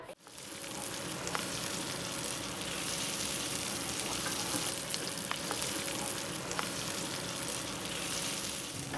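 Onions frying in a pan, a dense, even sizzle that holds close and constant throughout, with a few faint clicks and pops over it.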